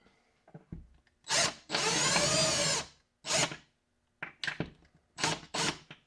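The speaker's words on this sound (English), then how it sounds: "Then I'm going to go ahead and put the screws in." A cordless drill driving screws whirs in short bursts, one long run and several quick pulses, up close with quiet pauses between.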